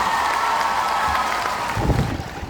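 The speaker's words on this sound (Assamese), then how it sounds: "বিশ্বজিৎ ফুকনৰ কাৰণে এটা ডাঙৰ হাত চাপৰি" Rally crowd in Sarupathar, Assam applauding for Bishwajit Phukan, a broad steady wash of clapping that swells slightly near the end, with no talk over it.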